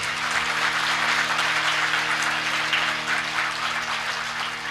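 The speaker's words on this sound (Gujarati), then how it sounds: "એ વ્યક્તિ અમારી હાટોથી લાઈનમાં ઊભા રહી અને જોરદાર તાળીઓથી વધાવો" An audience in Hong Kong breaks into loud, sustained applause, many hands clapping in a thick, even roar that holds steady from start to finish.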